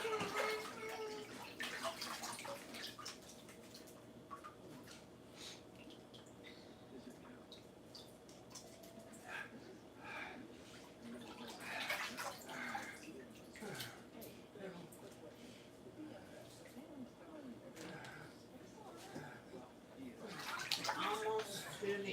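Collard greens being washed in a sink of water with a veggie wash and baking soda, with soft sloshing and dripping that goes on steadily and swells now and then under occasional talk.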